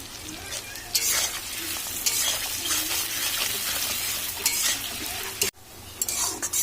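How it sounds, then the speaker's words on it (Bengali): Sliced onions sizzle steadily in hot oil with salt, over a tempering of cumin and three dried red chilies, with occasional spatula stirs and a sharp break near the end. "পেঁয়াজটা ভালো মতন ভাজা হয়ে গেছে"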